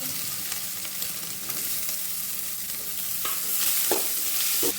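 Onion frying in oil with cumin, asafoetida, turmeric, curry leaves and ginger-garlic-chili paste, giving a steady close sizzle with occasional scraping stirs of a spoon and a few louder clinks near the end, with no talking.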